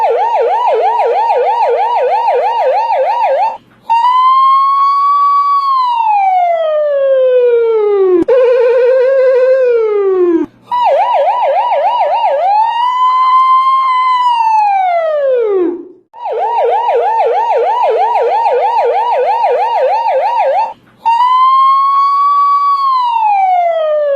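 A voice imitates a police siren with his mouth, loud and close, rising and falling in long wails alternating with rapid yelping warbles, broken by brief breath pauses.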